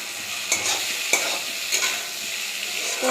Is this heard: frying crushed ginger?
yes